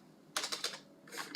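Short, faint run of typing on a computer keyboard, a few quick clicks followed by a brief pause and then a few more keystrokes.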